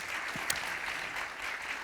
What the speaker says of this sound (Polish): Partnerami, tak, należą się oklaski, absolutnie.